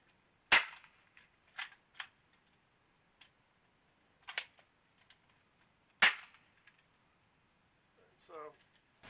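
An Adventure Force Deuce Pro toy blaster is fired empty, without darts, giving about six sharp, close plastic snaps at irregular intervals, with a faint murmur near the end.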